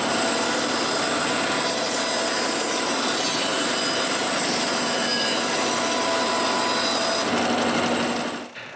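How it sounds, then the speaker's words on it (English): A saw cuts along the edge of an oak board salvaged from firewood, a loud continuous rasping stroke that runs steadily close by, then tapers off and stops near the end. "I cut both edges straight."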